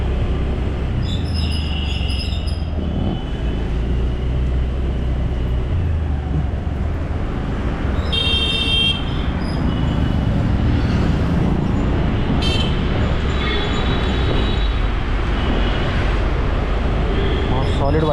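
Foggy road traffic in Dwarka, Delhi, with a steady rumbling roar of engines and occasional horn toots, close and continuous, while someone speaks over it.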